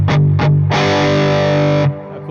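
Epiphone electric guitar played through an overdrive pedal, two short distorted stabs followed by a loud sustained chord ringing for over a second, then cut off.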